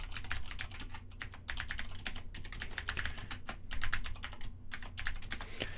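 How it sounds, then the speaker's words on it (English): Rapid, uneven typing on a computer keyboard, close and fairly quiet, with short pauses between bursts of keystrokes and no talking. "I'm going to go ahead and type in my doc type definition."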